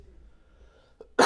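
After a near-silent stretch and a faint breath, one sudden loud cough bursts out close to the microphone at the very end.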